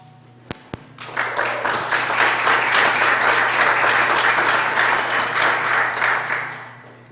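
Two sharp taps, then a large audience at a county fiscal court meeting breaks into sustained, loud applause that swells, holds steady for several seconds and begins to fade.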